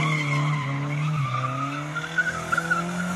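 A Chevette car does a handbrake spin with its tires skidding, producing a sustained, loud squeal over the steady drone of the engine.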